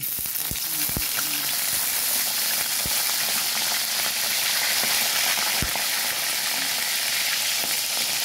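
Milkfish (bangus) frying in hot oil in a home kitchen, a steady dense sizzle with crackling pops and a few sharp spatters, close and continuous throughout.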